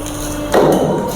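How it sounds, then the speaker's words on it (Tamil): An areca leaf plate press machine cutting a 6 inch bowl gives one short, loud pressing thud with a brief crunch, rising out of a steady machine hum. "ப்ரெஸ் பண்ணால் அவ்வளோ கட் ஆயிடுச்சு"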